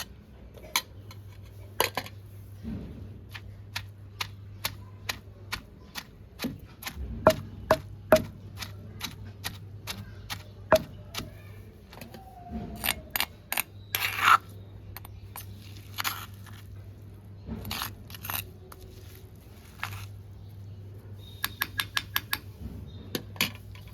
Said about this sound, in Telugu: ఈ బెండకాయ మరి మెత్తగా మెదగకూడదండి కచ్చపచ్చగా దంచుకొని